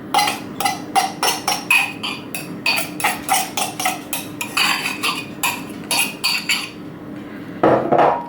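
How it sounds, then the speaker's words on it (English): Stuffing being tipped and scraped into a big bowl while preparing air fryer Christmas party food, heard as a steady run of close, sharp clinks and clatters of utensil against bowl, irregular taps for about seven seconds with no talking. "I'm just going to add this stuffing into a big bowl"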